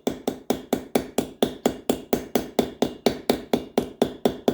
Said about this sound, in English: You just peen it a little more. Try not to hit the wood. You just keep tapping, tap, tap, tap.